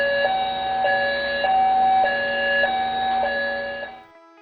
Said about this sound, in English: And here is the fire alarm.